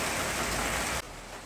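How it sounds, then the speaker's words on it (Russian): Steady rain pours down around a garden gazebo beside a bathhouse, a dense continuous hiss that drops abruptly to a softer patter about two-thirds of the way through. "Жду, пока дождик закончится в беседке."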